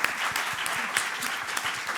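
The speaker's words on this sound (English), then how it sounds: "I hope everyone will give Dominic a huge clap" Short burst of audience applause after a talk on AI and publishing, close and fairly loud, with individual claps standing out crisply within the dense patter.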